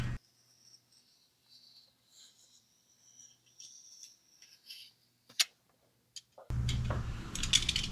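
Utility knife slicing down the center of a batt of insulation fitted between shop ceiling rafters: soft, faint scratchy cutting strokes in short bursts, followed by a louder burst of rustling and handling noise.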